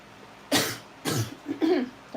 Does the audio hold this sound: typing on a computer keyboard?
no